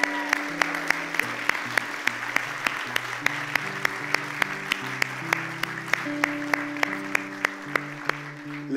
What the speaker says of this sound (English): Why don't we give a round of applause for God?